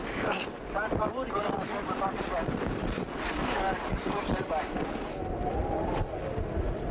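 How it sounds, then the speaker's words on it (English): Strong wind roaring across the South Col of Everest, a continuous loud buffeting rush against the microphone, with a voice partly audible beneath it. "It's pretty blowy here on the col at the moment"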